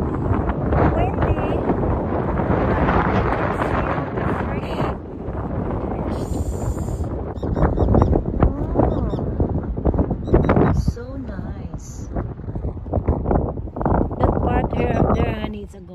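Strong wind blows at a shoreline bay in San Jose, roaring steadily into the microphone with gusty buffeting while people talk over it throughout.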